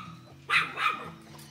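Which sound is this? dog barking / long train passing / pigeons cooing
dog barking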